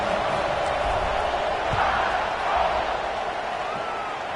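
Steady stadium crowd roar from the College Football 26 video game during a USC at Alabama matchup, a continuous wash of noise that swells slightly midway with no talk over it.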